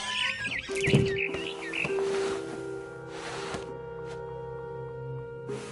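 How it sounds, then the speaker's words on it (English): A barn swallow chirps in a PS4 video game: a cluster of bright, quick tweets near the start, then quieter calls over a steady electronic hum and faint ambient tones. "Then I heard chirping outside my window. It was a barn swallow going back to her nest."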